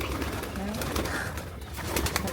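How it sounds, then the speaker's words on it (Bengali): A pigeon coos on a rooftop in a low, rolling murmur under steady outdoor noise, with faint background voices nearby. "কবুতর একটা এখানে"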